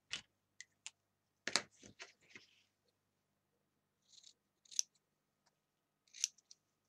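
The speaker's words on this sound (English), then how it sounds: "Really nice scissors. I love these scissors. They're so nice and snippy." Several crisp, close scissor snips come in quick clusters with short pauses between them, fairly quiet, with no voices.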